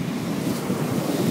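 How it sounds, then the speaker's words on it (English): Ocean waves washing up onto a Hawaiian beach make a steady, close rushing hiss of surf, with wind buffeting throughout and no pause. "the water is coming in, washing the beach clean"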